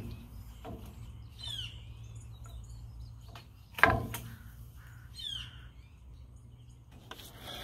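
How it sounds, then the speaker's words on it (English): Birds in trees disturbed by branch trimming from a truck-mounted scaffold, giving scattered caws and chirps over a low steady hum, with one sharp knock partway through and no talking. "That pissing off a few birds"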